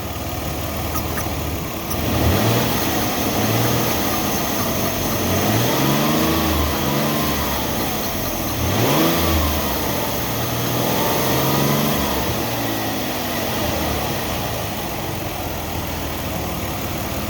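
Ford Escape engine rising and falling in several revs as throttle is applied during a check for code P0405, a loud, steady engine drone with rising and falling pitch and no talking.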